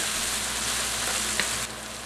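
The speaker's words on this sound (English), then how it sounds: "I'm going to cook these onions for about another minute or two" Onions sizzle steadily in a hot pan for a chicken curry, a close, continuous hiss that quietens slightly near the end, with no speech.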